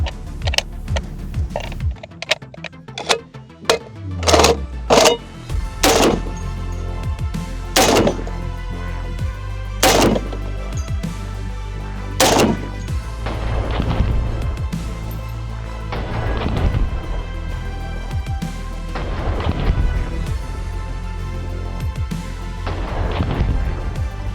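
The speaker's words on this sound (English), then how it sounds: "You want to see the 50 fire." A finished AK-50 .50 caliber rifle fires several heavy, booming shots, loud and close, spaced irregularly with reverberating tails, followed by a sustained rumbling background and scattered thumps and clanks.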